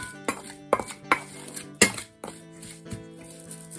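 A lavender oil mixture is stirred in a bowl, giving a series of close, irregular clinks and scrapes of utensil against the bowl, with quiet pauses between strokes.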